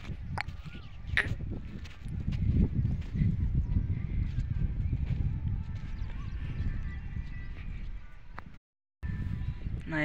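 Seema bullocks walking while ploughing a farm field, their hooves giving a steady, irregular clip-clop close by, with a short break near the end and occasional bird calls in the background.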